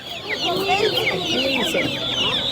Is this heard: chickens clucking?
yes